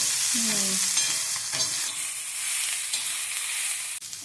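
Ripe chilies frying in oil for a chutney: a continuous bright sizzle with occasional stirring scrapes and taps, close up and steady throughout.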